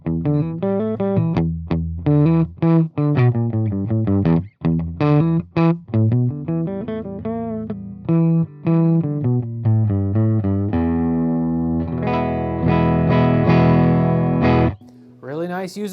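A Squier Telecaster electric guitar plays through effects on pickup position 4, with choppy distorted riffs and short notes leading into a ringing, sustained chord near the end. The sound is loud and close up.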